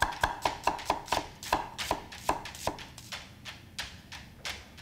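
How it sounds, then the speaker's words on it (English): A knife thinly slicing onion on a cutting board, a quick series of crisp, evenly spaced chops close by, around a dozen cuts in steady rhythm, no talking. "Next, we're just going to thinly slice some onion."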